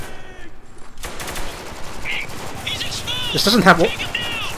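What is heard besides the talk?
gunfire in the video game Spec Ops: The Line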